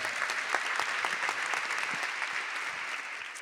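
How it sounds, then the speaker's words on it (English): Audience applause at a panel discussion in Saint Paul: steady, dense clapping from a crowd that holds for several seconds before tapering slightly. "So Let's applaud that."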